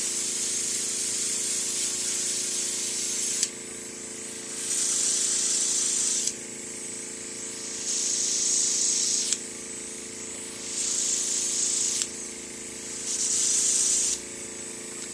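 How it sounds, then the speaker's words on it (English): Airbrush spraying blue makeup in short bursts: four hissing sprays of about two seconds each, separated by pauses with a soft background hum, close and fairly loud, with no talking. "Spray the rest of that blue out."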